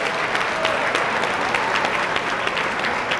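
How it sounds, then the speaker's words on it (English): Steady applause fills the room at a chamber of commerce awards dinner at a yacht club, a dense continuous clapping from a sizeable crowd. "Let's give a round of applause"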